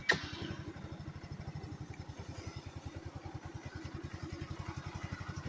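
A 150cc GY6 scooter engine runs at a steady idle, its regular rapid putter close and moderately loud, with a brief clatter at the start and no voices.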